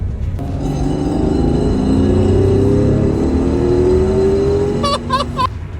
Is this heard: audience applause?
no